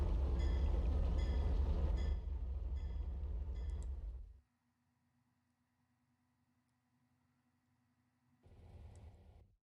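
A train rumbles past in the Trainz (T:ANE) simulator with a loud, dense rolling roar and a few rhythmic clicks. It cuts off sharply into a faint hum, and a softer train rumble comes back near the end.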